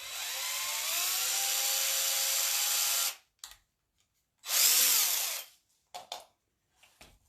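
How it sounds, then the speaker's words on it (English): A power drill bores into a fabric and Mod Podge Easter egg craft in a long, steady whirring run, then a quick blip and another whining burst, followed by several short, sharp triggers between pauses. "I think I need to drill this one down just a little bit further."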